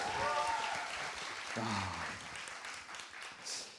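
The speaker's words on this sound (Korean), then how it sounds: "박수 주세요" Studio audience applause on a Korean talk show, a continuous bed of clapping at moderate level, with a host's voice calling out over it.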